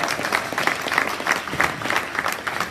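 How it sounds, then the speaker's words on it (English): A crowd applauding steadily, many hands clapping in a dense, continuous patter that stays fairly loud throughout. "Let's give them a round of applause for getting something done."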